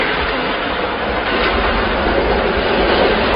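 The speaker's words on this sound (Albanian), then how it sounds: "Lokomotiva ime do të mbartë sot pasagjerë për në stacionin më të ri," A passenger train locomotive rolls along in a continuous loud, broadband rumble with no break, heard close and alone with no voices.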